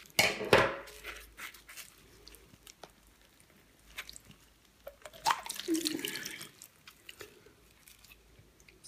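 Coconut water running and splashing from a split coconut, faint liquid trickles and drips with a couple of louder wet splashes, close by and quiet.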